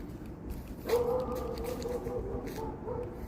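A dog on a Chicago street lets out a bark and a sustained whining yelp, close by and moderately loud over steady city background noise, lasting a couple of seconds.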